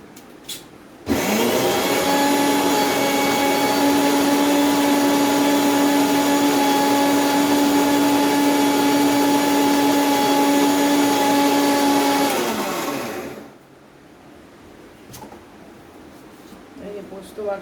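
A kitchen mixer grinder whirs loudly and steadily as it grinds poppy seeds into paste, its motor humming for about twelve seconds before spinning down and falling quiet.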